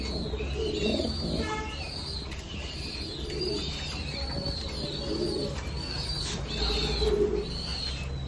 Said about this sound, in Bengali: আমার কবুতরগুলো খুব ছোটাছুটি করতেছে